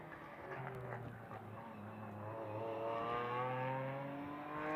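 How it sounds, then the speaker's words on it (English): BMW-badged Midjet GT race car on a circuit, engine note rising steadily as it accelerates through turns 16 to 18, heard from a moderate distance with a sustained, climbing pitch. "the Midjet of Chloe Hellery, the quote-unquote BMW, making its way into turn 16 now"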